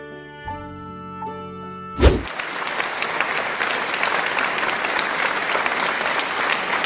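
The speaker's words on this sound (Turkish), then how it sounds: "Alkışlamayın." A studio audience at a comedy show bursts into applause after a musical sting and a heavy thump, the clapping building into dense, sustained loud applause that continues to the end.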